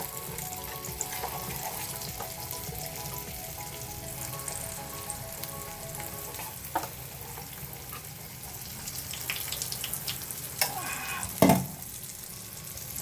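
Vellai paniyaram batter sizzling and frying in hot oil, a steady soft crackle throughout with a few sharper clinks and splashes near the end, no talk.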